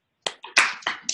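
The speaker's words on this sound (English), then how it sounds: "let's welcome Heather with a big old round of applause" Audience in a morning call gathering welcoming Heather with a short burst of clapping: several sharp, uneven claps and cheers over about a second, close and fairly loud.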